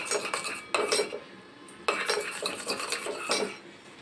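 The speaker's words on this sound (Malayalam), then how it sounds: "ഇനി നമുക്കിതിനെ ഒന്ന് നന്നായിട്ട് മിക്സ് ചെയ്ത് കൊടുക്കാം." A spoon mixes homemade aloe vera face wash with glycerin and rose water in a small bowl, giving bursts of close clinking and scraping against the sides, separated by short pauses.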